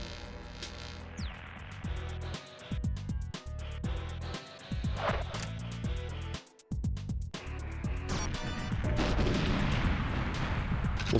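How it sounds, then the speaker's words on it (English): Explosions, booms and heavy gunfire from the GoldenEye 64 video game fill the mix loudly, with dense bursts broken by short gaps, including a remote mine detonation. "something went and blew up over there"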